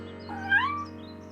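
A single cat gives a short rising-and-falling meow at a cat rescue, close and clear over a steady low hum.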